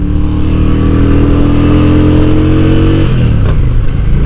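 Honda Shadow 750 Ace American Classic Edition motorcycle engine while riding, a loud, close, steady low throb that drops in pitch near the end as the revs fall, with no talk.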